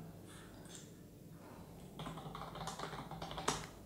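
Quick, irregular key clicks on a USB keyboard connected to an Asus Zenfone 2 phone, tapping away at close range, starting light and picking up pace, with no talking.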